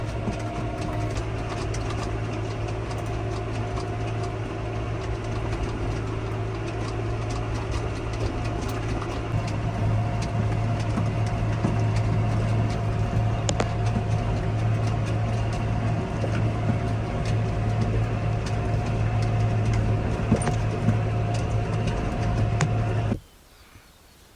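A John Deere 6120M tractor raking alfalfa hums steadily at a constant engine drone from inside the cab, near and even, before cutting off abruptly at the very end.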